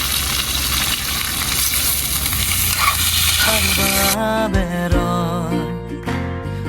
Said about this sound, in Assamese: এইখিনি চিকেন ঢালি দিছে এইপিনে